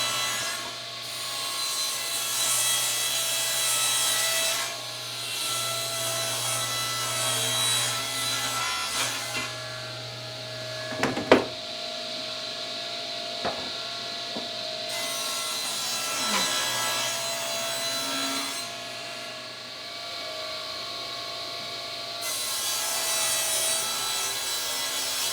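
A table saw with a panel-cutting setup rips through wood panels for a shop vac cabinet, a steady loud whine and rasping cut sustained over about 25 seconds, with brief clunks midway and no speech.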